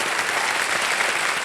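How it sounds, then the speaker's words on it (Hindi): A studio audience on the KBC game show applauds to welcome a contestant, a loud, dense, continuous burst of clapping filling the room. "तालियों के साथ इनका जरा स्वागत हो गया।"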